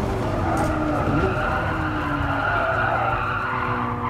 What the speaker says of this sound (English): Tires are damn squealing.